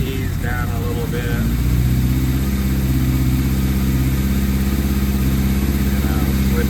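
A 1981 Suzuki GS850G motorcycle idles after a cold start with the choke on, its engine keeping a steady, close, rumbling beat throughout after a brief lift near the start.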